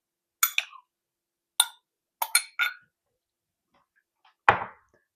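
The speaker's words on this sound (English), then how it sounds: "So now I'm going to put in 1 cup of crushed pineapple that's" Drained crushed pineapple added to a mixing bowl with celery: a few sharp, close clinks of a utensil against the bowl in small clusters, then a single soft, wet plop, with silence between.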